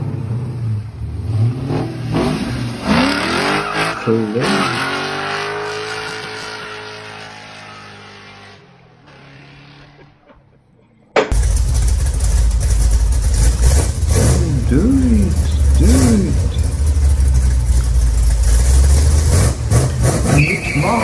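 A Camaro's inline-six engine revs hard up close, a rising and falling roar that drops away, then returns loud and steady with a brief spoken word over it.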